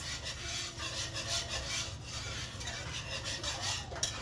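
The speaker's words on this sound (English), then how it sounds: "I'm sorry for the whisking noise as I am talking" A whisk working thickening homemade gravy in a pan, steady close scraping strokes repeating in a brisk rhythm, with no voices.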